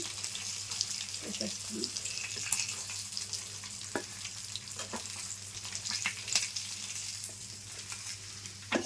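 Pieces of fish frying in a pan, a steady soft crackling sizzle with scattered pops and faint utensil taps, close and continuous, with no talking.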